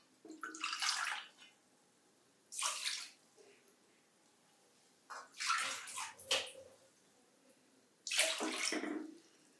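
Water is poured from a bowl onto sugar to make syrup, four separate splashing pours, each lasting about a second, close and fairly quiet with silence between.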